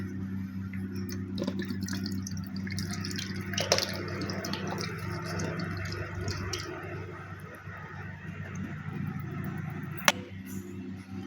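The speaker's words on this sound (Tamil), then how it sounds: "நல்லெண்ணெயை வந்து இப்போ இதில் சேர்த்துடலாம்." Sesame oil pours into an herbal hair oil mixture, a continuous soft liquid trickle with a few faint drips and small clinks scattered through it.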